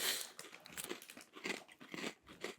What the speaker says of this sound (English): transform that passion into a delightfully crunchy, delicious, cheesy cracker